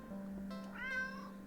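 A single drawn-out cat meow in a video game, fairly soft and rising then falling, over a steady low hum with no speech.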